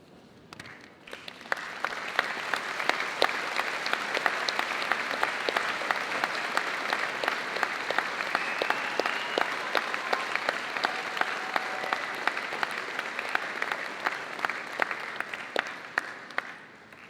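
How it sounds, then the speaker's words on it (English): A standing audience at a Birmingham City University graduation ceremony gives sustained applause, a dense, steady roar of many hands with crisp individual claps, rising quickly after a quiet start and holding for about fifteen seconds. "give them a very well-deserved round, warm applause"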